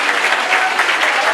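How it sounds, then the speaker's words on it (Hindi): A church congregation at a prayer service breaks into loud, sustained applause, a dense, continuous wash of clapping that fills the room for the whole moment. "जोरदार तालियां बजाएंगे"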